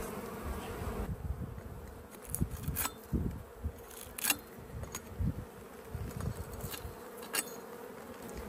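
Honey bees buzz around beehives during beekeeping, a dense steady hum with individual bees zipping loudly past the microphone in repeated close passes.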